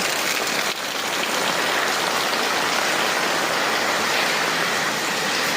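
Heavy rain pours down steadily in a dense, continuous hiss that stays loud and close for the whole stretch, with no voices over it.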